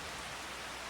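Rain in Farming Simulator 25, a steady, dense hiss of falling rain with no breaks, fairly faint and heard on its own.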